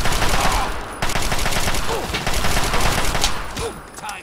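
Rapid gunfire in Fallout 3, loud and close, with repeated bursts packed across the whole stretch and a voice calling out over the shots.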